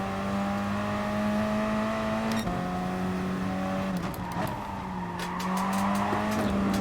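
A race car in Gran Turismo Sport spins its wheels under too much throttle, the engine holding a steady high drone while the tires squeal and skid, loud and close with no voices.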